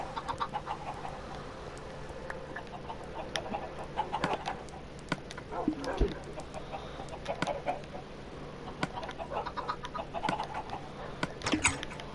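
A chicken clucks in a video game, short clucks and squawks recurring irregularly at moderate volume over steady game ambience, with no speech.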